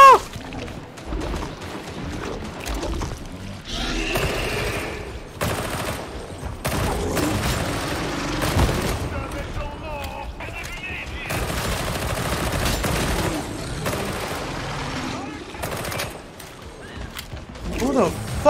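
Warhammer Darktide gunfire: dense bursts of rapid shots and fusillades crackling throughout, loud and near, broken by brief pauses, with voices and game chatter mixed in.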